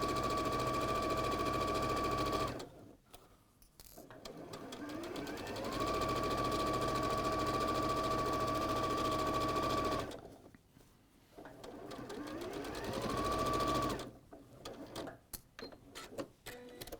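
A sewing machine stitches quality, stable fabric for a quilt and purse kit. It runs in long, steady whirring runs with a sustained mechanical hum, with brief pauses between runs.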